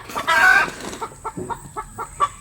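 A laying hen clucks agitatedly at close range: a loud squawk followed by a series of short rhythmic clucks, with no talk.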